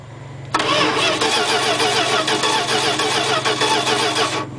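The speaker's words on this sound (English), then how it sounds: "We got cranking" An inline six tractor engine with a push-button starter cranks briefly and catches, then runs loud and close with a rough, steady idle that carries to the end, no voices.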